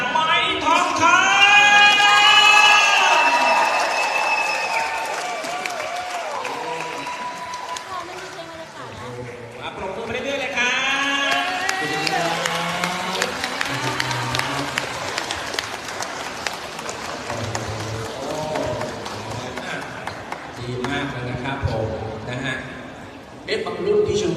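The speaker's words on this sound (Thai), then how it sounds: "เสียงปรบมือและเสียงกรี๊ดต้อนรับน้องๆจ้า" A studio audience at a Thai singing show applauds and screams to welcome young singers, loud crowd noise swelling and fading under a host's voice and singing.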